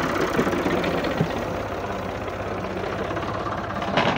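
A tractor engine idles steadily at a Punjab borewell in Pakistan, a loud, close, continuous mechanical rumble with a faint knocking texture and no talk.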